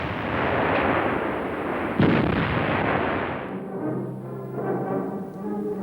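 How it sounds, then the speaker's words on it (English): A German 88 gun firing in the artillery role in WWII archival footage: a loud continuous roar of gunfire with one sharp report standing out, then fading into a quieter rumble. "88 was also frequently employed in the conventional artillery role."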